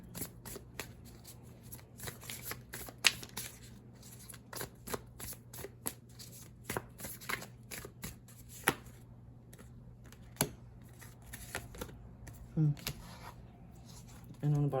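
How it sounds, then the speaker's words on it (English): A deck of tarot cards is shuffled and drawn by hand, with soft repeated riffles, flicks and taps close by, under a low steady hum and with quiet talk during the handling. "Let me get a couple more cards."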